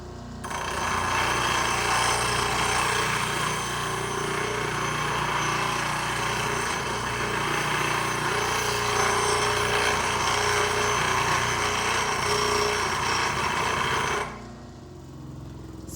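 A grinder drones at steady volume against a cedar wood container turning on a lathe, running continuously for about fourteen seconds before it cuts off.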